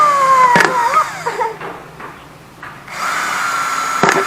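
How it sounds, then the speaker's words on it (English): Power drill boring holes into a plastic ant trap container, with a rising whine, a short pause, then a steady drilling hum and a sharp crack near the end, loud and close. "So now I'm going to drill the holes just below this one here."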